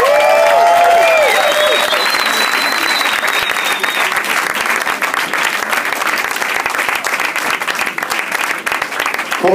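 An audience at the final night of a young jazz vocal competition applauds the band with steady, dense clapping that starts loud, then holds and slowly thins. A few faint cheers come early, and a voice speaks briefly over it.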